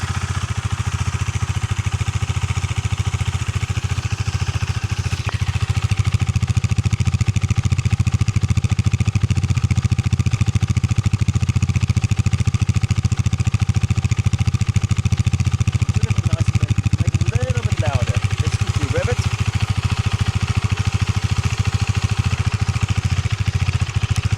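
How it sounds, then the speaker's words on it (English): A KTM 390 Duke single-cylinder motorcycle idles steadily with a soft, low exhaust burble and a light mechanical clatter, continuous and close. "And then the exhaust is like really soft."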